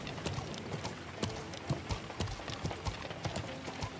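Horse hooves clip-clopping in the medieval sandbox game Feudal MMO, a steady run of moderately loud hoofbeats with a scattered, uneven rhythm and no voices over them.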